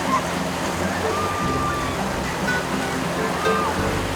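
Steady broadband wash of ocean surf along the coast at Jupiter, continuous and fairly loud throughout, with a few faint thin tonal squeaks riding over the roar.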